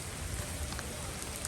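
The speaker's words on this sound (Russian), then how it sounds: "Под дождем иду." Rain falls steadily on a street in Bologna, a soft, even patter close by, faint and continuous without any voices.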